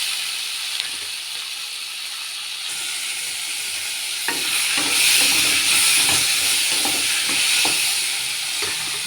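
Chopped onion and tomato fry in a pan for a padavalakai and Kabul chickpea saagu, a steady bright sizzle that swells louder midway, broken by the soft scraping knocks of stirring.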